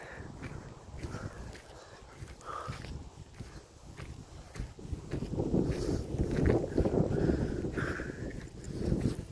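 Wind gusting across a mountainside in Norway, a steady blustery rush buffeting the microphone, with faint footsteps and movement underneath and occasional brief distant voices.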